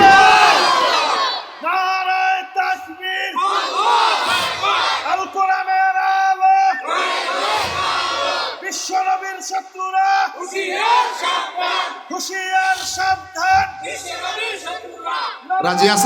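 A crowd at a religious sermon shouts the takbir in loud, repeated unison chants, several rising call-and-response bursts separated by short gaps, filling the whole stretch close and strong.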